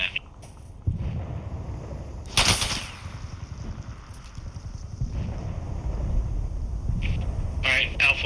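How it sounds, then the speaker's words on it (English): Video game gunfire in a snowy setting, with distant cracks and short bursts under wind noise and steady talk. "Definitely shooting at me."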